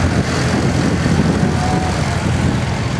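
A 1949 Farmall W6 tractor driving past, a loud, steady, broadband engine drone held close throughout with no talking.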